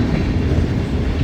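A train rolling steadily along rails through forested country, a loud, continuous low rumble with wheel clatter close by and no voices.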